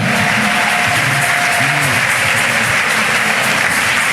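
An audience at a church workers' conference applauds loudly and continuously, a dense wash of clapping that fills the whole stretch without any pause.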